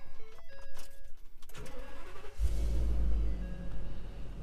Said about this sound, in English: Man, listen to that V10.